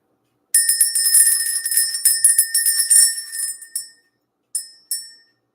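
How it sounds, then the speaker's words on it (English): A bright metal bell rings repeatedly with rapid overlapping strikes for about three seconds, then falls silent before two separate single dings. The tones are loud and clear with no talking. "Let's ring the bell."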